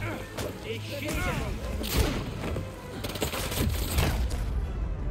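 Gunfire in Marvel's Spider-Man 2 on its hardest difficulty, a string of sharp shots and crashing impacts mixed with combat noise, moderately loud, with a voice talking over parts of it.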